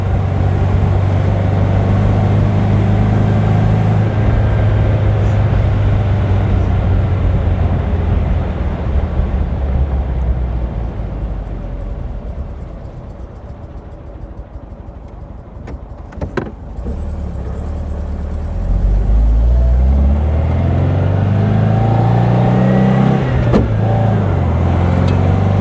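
A 1958 Porsche 356 A 1600 Super Speedster drives along, its engine droning steadily, easing off into a quieter coast midway and then rising again as the revs climb, with no one speaking.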